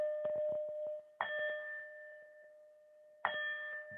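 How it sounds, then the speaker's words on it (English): A gong in a yoga class rings out three times, each strike a bright metallic onset with a sustained shimmering tone that slowly fades before the next; soft rattling taps sound between the first strikes. "we just kind of like going into the gong 3 times"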